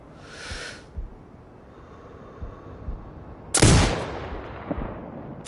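A single loud sniper rifle shot rings out in the video game Sniper Ghost Warrior Contracts 2, a sharp close crack with a short tail, preceded by faint breathing and small handling noises.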